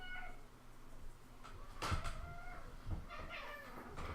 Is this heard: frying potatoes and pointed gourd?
no